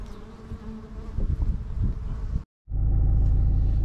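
Dense buzzing of a honey bee swarm, a steady insect drone close by with rumbling handling noise, briefly cutting out to silence before the loud buzz resumes.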